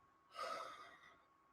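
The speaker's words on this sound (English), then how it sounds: "Sometimes I yawn" A single tired yawn at night, a breathy open-mouthed inhale that swells and then trails off over about a second, close and fairly quiet with no talk.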